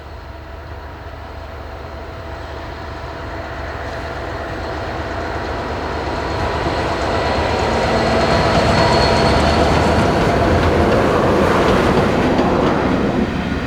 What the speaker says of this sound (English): Class 66, number 66710, run passenger services for people to enjoy a ride on a modern diesel freight